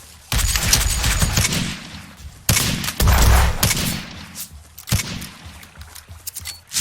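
Gunfire in the top-down shooter Surviv.io: dense bursts of rapid shots from both sides in a clan war match, loud and continuous with brief lulls between volleys.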